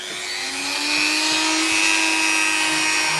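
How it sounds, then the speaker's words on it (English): A Dremel rotary tool cleans the motor commutator of a Hornby Triang DMU/EMU power bogie, a close, steady high-pitched whine that holds constant throughout, with no speech. "Now I'm going to just do this with the Dremel like I've done before."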